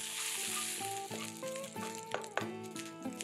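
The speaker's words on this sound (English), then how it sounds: "Let's saute this for a minute." Mustard seeds, chana dal, chopped green chili, grated ginger and curry leaves sauté in hot oil, giving a steady close sizzle beneath prominent melodic background music.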